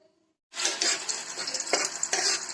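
After a brief silence, panch phoron spices and crushed garlic drop into hot mustard oil in a kadai and burst into a loud, continuous sizzle. Stirring scrapes and crackles run through it.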